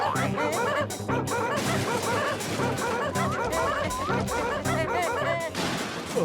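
A cartoon dog barks, yips and whimpers in quick repeated bursts over a busy animated soundtrack with music and laughter, loud and close throughout.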